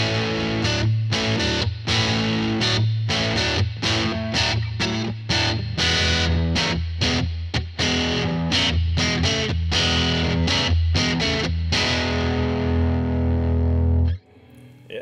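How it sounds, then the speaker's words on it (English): Bass guitar through a 78 Custom Badass distortion pedal with the tone rolled down, playing a loud, gritty riff of repeated chugging notes that ends on a long held note before cutting off. "78 custom badass distortion."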